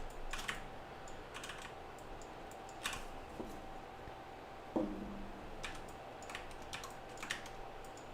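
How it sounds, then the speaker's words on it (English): Sparse computer keyboard typing in a quiet room: short bursts of soft key clicks separated by pauses, close by and faint. "you can hear the keyboard shortcuts"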